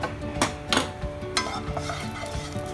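Cardamom pods and cloves frying in oil in a pan after paneer has been fried, with soft continuous sizzling under a few sharp clinks and scrapes of a utensil against the pan.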